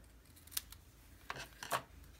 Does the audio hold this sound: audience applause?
no